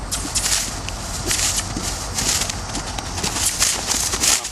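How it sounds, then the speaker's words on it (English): Roscoe, a rescue horse on his first ride under a rider in Colorado, canters with steady rhythmic hoofbeats, close and continuous through the whole stretch, with no one speaking. "Stand up tall, help him here, and ask him to canter."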